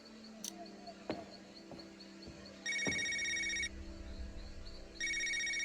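A telephone rings in the detective game Knee Deep: two bright electronic ring bursts, one longer and one just starting, over a quiet background with faint clicks.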